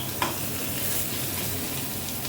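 Mashed potato bhaji frying in a kadhai with green chillies while being stirred, a steady loud sizzle throughout and one sharp spoon scrape near the start.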